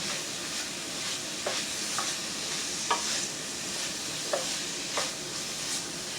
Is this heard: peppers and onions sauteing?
yes